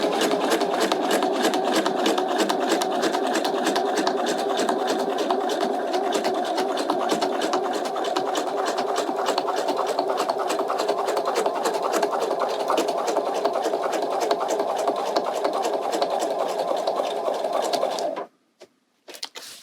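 A sewing machine stitches around a piece of fabric in a fast, even run of needle clatter lasting many seconds, close and loud, then stops abruptly near the end.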